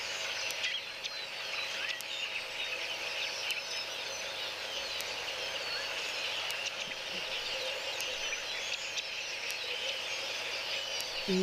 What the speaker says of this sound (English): And you can hear the cluster of birds that is vocalizing right now.